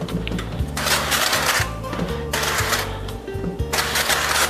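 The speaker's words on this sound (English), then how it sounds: "Now I have some olive oil spray, so I'm just going to give it a gentle spray." Four short hissing bursts of an olive oil spray can come in quick succession over a steady low mechanical hum.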